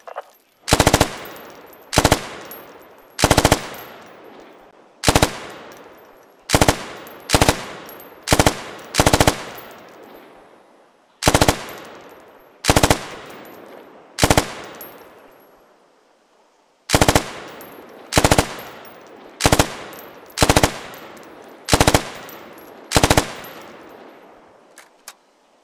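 Machine gun fire in the military shooter game Squad: loud, sharp bursts and single shots spaced irregularly across the whole stretch, each ringing out briefly before the next, with no talking.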